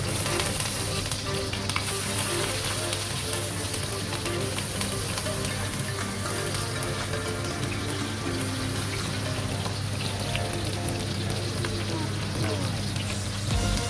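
Onions hit hot oil in a heated pan for sweet and sour pineapple chicken, a loud, dense, continuous sizzle and crackle running throughout, close by, with a voice faintly under it.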